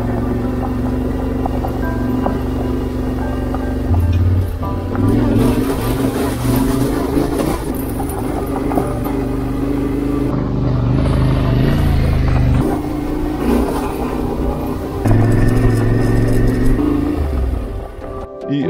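A heavy 200 kg Yamaha T7 motorcycle rides off-road on a mountain trail at Medvednica, its engine loud and close, droning and rising through revs with shifting pitch.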